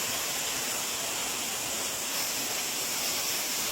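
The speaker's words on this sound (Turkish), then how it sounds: "Evet Kanlıçay Köyü Şelalesi değerli arkadaşlar." The waterfall at Kanlıçay village pours in a steady, dense roar of falling water, loud and unbroken throughout with no voices.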